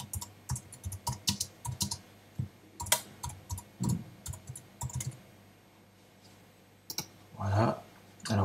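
Rapid clicky typing on a computer keyboard, close and clear, in quick bursts of keystrokes with a short pause before a final flurry.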